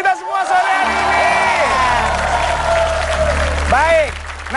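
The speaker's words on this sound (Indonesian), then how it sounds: "tepuk tangan dulu untuk kita semua sore hari ini" A studio audience at an Indonesian TV show applauds and cheers. The noise is dense and loud, a host's voice rides over the crowd throughout, and it cuts off near the end.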